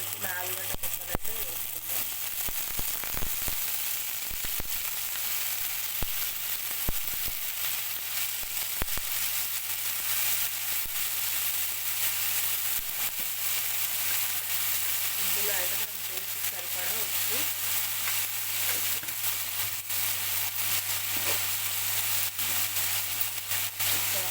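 Onions frying in a little oil for a crispy potato fry, a steady loud sizzle running throughout with occasional stirring scrapes and faint talk in the background.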